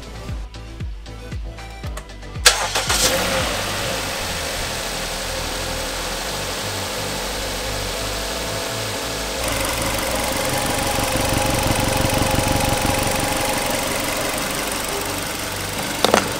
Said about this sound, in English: So now we can just start the car.